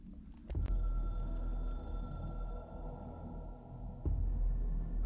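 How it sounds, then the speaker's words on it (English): The telephone hotline in the video game Control rings with a bright tonal bell that sustains and fades, then strikes again near the end over a low hum. "I can hear the hotline ringing in my dreams, constantly ringing."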